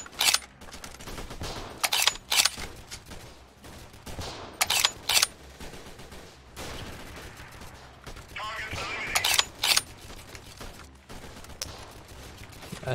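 Grenades go off in the guerrilla combat game Freeman: Guerrilla Warfare, a series of loud sharp blasts and cracks in irregular clusters over a rumbling battlefield background.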